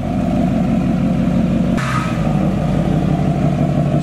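A huge LMM Duramax diesel pickup truck revving hard, a loud steady engine roar with a sharp surge of throttle about halfway through, close up and continuous with no talking.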